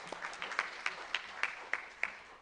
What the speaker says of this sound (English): If we could get just a brief round of applause for this panel